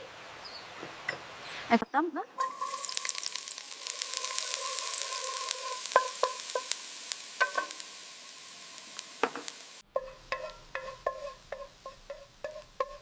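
Garlic and onions sizzle steadily in a hot pan for a stir fry, a loud continuous hiss broken by scraping stirs and clinks, with a brief break near the end.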